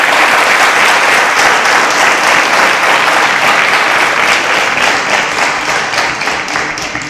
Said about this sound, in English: A round of applause for Enoch